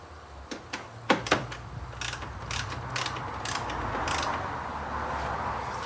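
Ratcheting and clicking of fasteners being tightened on the plastic radiator shroud of a 4th-generation Toyota 4Runner, a few sharp close clicks followed by steady mechanical ratchet sounds, with no talk.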